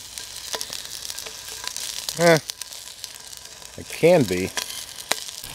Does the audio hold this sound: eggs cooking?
yes